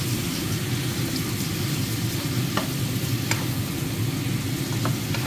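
Beef stew being stirred in a pot, a steady low churning and bubbling with faint scrapes of the spoon, continuous and close, no voices.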